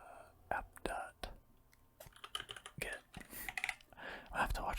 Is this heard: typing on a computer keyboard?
yes